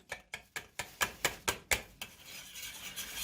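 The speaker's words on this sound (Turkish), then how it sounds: "Aynı zamanda da karıştırma işlemine devam ediyoruz." A spoon scraping and stirring a thick starch and grape molasses mixture in a pot for homemade walnut sucuk, eight rhythmic strokes close up, then a softer continuous scrape.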